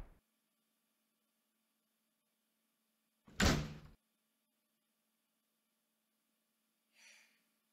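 A door opening in a horror video game: one loud creak-and-thud about a second long in near silence, with a faint soft rustle a few seconds later.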